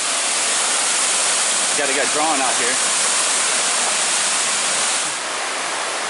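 Waterfall on the Eagle Creek Trail roaring as a loud, steady broadband rush that fills the whole scene, with a voice speaking briefly over it.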